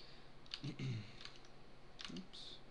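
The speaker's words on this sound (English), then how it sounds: "Alright, so I got to type this in." A few short bursts of clicking keystrokes on a computer keyboard, close and quiet, with faint background noise between them.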